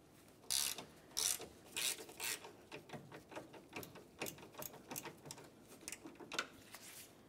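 A ratchet works on the AC condenser mounting hardware of a 2006-2011 Honda Civic. It gives a quiet series of quick clicking bursts, uneven and repeated throughout, with no talk.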